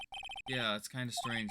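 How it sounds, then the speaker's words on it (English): A quick burst of electronic phone-ringtone pulses, about four rapid chirps, sounds in the Ace Attorney video game, then a voice starts talking right after. "I heard a phone ring just now."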